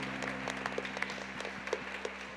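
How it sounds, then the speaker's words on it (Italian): Faint, steady applause from an audience at the Enactus Italia national competition for a presenter, a soft wash of clapping with a few louder individual claps over a low constant hum. "Ancora un applauso a Filippo Carnovallini."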